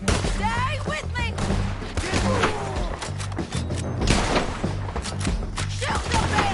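Scattered gunshots and thuds pop through a chaotic firefight on a bridge in Red Dead Redemption 2, mixed with shouting voices and steady game noise.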